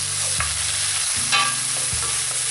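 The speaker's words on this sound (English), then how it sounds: "frying away." Vegetables frying in a pan for prawn spring rolls with a loud sizzle, stirred a few times with scraping knocks of a utensil against the pan.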